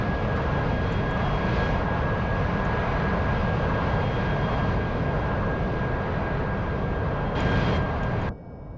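Steady, loud roar of an AV-8B Harrier jet engine in the DCS flight simulator, a continuous broadband rush with a thin whining tone on top, ending in a sudden drop near the end.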